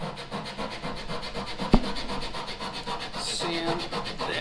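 A wooden part for a CLC Tenderly dinghy is sanded by hand to fit, making close, steady rhythmic rubbing strokes with one sharper knock partway through.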